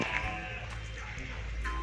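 A goat on a livestock farm gives a bleat, heard as a bleat at the start and a short bleat near the end over steady low background rumble, fairly close.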